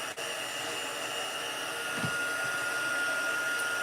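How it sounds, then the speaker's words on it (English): Craft heat tool blowing hot air to melt embossing powder on small stamped hearts, a steady, close whooshing hum that holds at an even level throughout with no voices. "We're gonna grab our heat tool and we are going to heat up our little hearts."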